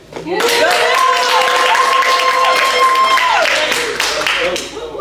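A crowd claps and cheers loudly and continuously, a steady wash of applause with a sustained tone running beneath it.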